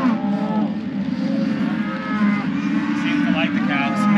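Cattle moo repeatedly in a mountain setting while being brought to summer pasture, with several overlapping low calls close by, steady and loud throughout.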